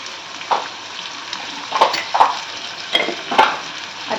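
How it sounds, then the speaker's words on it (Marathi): Onion frying in oil with salt for a spicy potato curry, stirred so that a steady sizzle is broken by about five scraping, clattering stirs of a utensil against the pan, close and alone with no talk. "आता मी हे मिक्स करून घेते तेलामध्ये छान"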